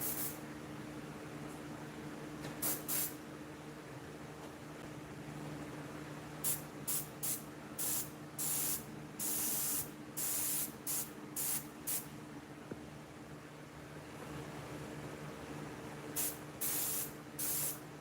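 Paint sprayed from a can onto a Krampus mask in short hissing bursts, several separate blasts spaced through the stretch with quiet gaps between them.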